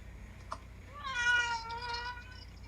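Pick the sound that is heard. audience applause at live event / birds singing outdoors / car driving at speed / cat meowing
cat meowing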